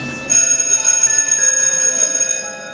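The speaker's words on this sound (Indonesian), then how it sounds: "Tak terasa pelajaran segera berakhir dan bel pun berbunyi." A school bell rings at the end of a lesson, a loud sustained electric bell tone with a steady ringing shimmer that starts abruptly and holds for over two seconds, heard alone.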